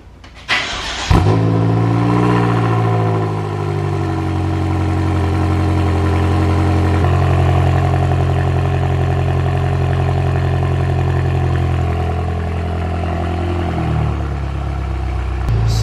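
Cold start of a turbocharged BMW M5 with downpipes: the starter catches, the engine flares to a loud, high rev, then settles into a steady, rough, raised idle that drops slightly near the end, close by with no talk.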